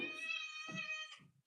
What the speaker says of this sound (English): Yeah, I'm showing you the cat.